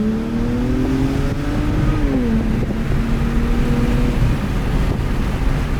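BMW engine with an upgraded free-flowing intake revving, a steady loud drone with a falling then settling pitch and a whooshing, turbo-like rush, continuous with no talking.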